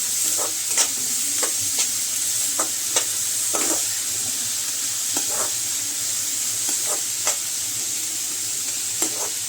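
Onion sautés in a pan for a spicy tomato chutney, giving a constant soft sizzle with regular light clinks and scrapes of a stirring spoon, close and moderately quiet.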